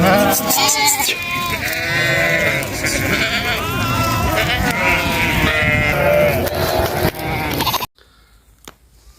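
A large flock of sheep and young lambs bleats continuously on a spring migration toward the foothills of Mount Ağrı, many overlapping calls loud and close, ending abruptly in near silence with a faint call or two.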